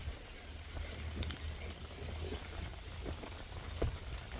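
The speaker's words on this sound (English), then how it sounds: "Here comes the rain again." Rain falls outdoors at a shed building site, a soft, steady patter and hiss with faint scattered drops, fairly quiet and continuous with no talking.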